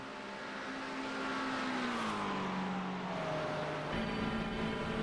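A McLaren GT3 race car runs on track at Spa, its engine droning loud and steady with a pitch that sweeps down and then back up as it shifts through gears.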